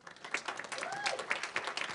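Young audience members clap at a debate event, with steady applause throughout and a voice talking faintly underneath.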